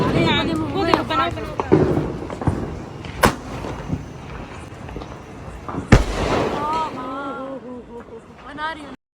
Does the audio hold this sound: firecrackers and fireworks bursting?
yes